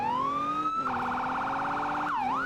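Police car siren from the Roblox Emergency Response game, a steady loud wail that switches into a rapid warbling yelp, then sweeps back into a rising and falling wail near the end, with no talking.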